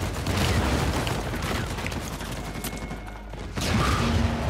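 Sustained suppressive gunfire in Uncharted 4: A Thief's End, a dense continuous rattle of automatic weapons with scattered impacts, briefly easing before surging loud again near the end.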